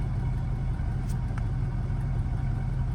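A Mercedes SL idles steadily at the exhaust, a low, even rumble heard close by and fairly quiet, with a couple of faint clicks over the top.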